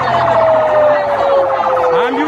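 An ambulance siren at Nakanyonyi Secondary School in Mukono during a mass student poisoning, a loud, close wailing tone that slides slowly downward and holds steady throughout.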